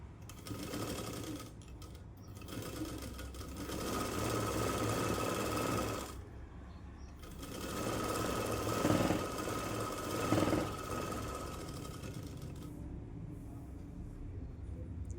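A sewing machine stitches a Punjabi dress, whirring steadily in long runs that stop briefly twice before starting again, close and even, with no talking.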